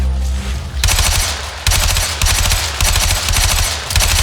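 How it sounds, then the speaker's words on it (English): Weapon fire aimed at a hive in Warframe's Heart of Deimos, loud bursts of rapid automatic shots in several close volleys separated by brief gaps. "Destroy it with weapon fire."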